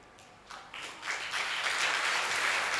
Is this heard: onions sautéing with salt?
no